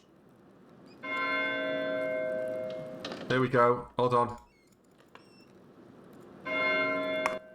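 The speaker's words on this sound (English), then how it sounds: "That's the bell for sext." A church bell in the video game Pentiment rings for sext, a sustained metallic peal that fades, then returns near the end, while someone talks briefly in between.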